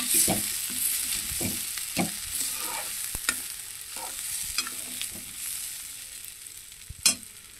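Washed moong dal and rice frying in a pan while being stirred, a steady sizzle with scraping spoon strokes every second or so and a sharper clatter near the end.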